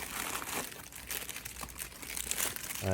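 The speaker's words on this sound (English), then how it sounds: "Each came in a plastic bag with excess screws." A plastic bag holding throttle handle parts and spare screws crinkles and crunches close by, with steady rustling throughout and a slightly louder burst of handling near the end.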